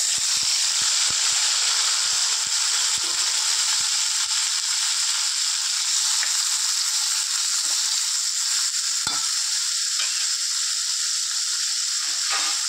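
Tomatoes fry in a pan with a loud, dense, continuous sizzle that holds steady throughout, broken by a few quick stirring taps and scrapes near the start.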